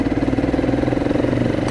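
A motorcycle engine thrums loud and close on the road, a steady throbbing mid-pitched drone with a rapid pulsing rhythm throughout.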